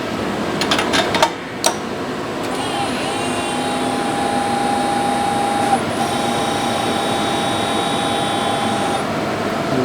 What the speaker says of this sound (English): So now we are going to unclamp this tool.